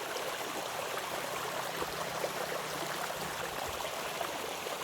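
Spring water flowing steadily through a pine forest, a continuous broadband rush with fine trickling texture, moderately close and even throughout, with no voices.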